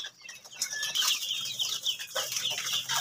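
A chick clucking among pigeons eating grain at a morning feeding spot, with sharp close chirps and clucks mixed with wing flutters and light scratching, and no voices.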